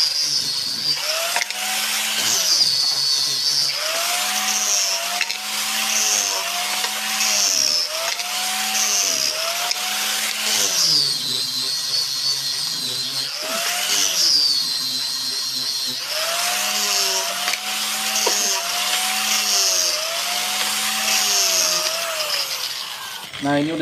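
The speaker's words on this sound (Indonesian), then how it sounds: "Terus amplas sampai halus ya, teman-teman." Power sanding of a small albasia wood block being smoothed for a natural finish: a continuous whining machine drone whose pitch repeatedly swoops up and down as the tool is worked across the wood.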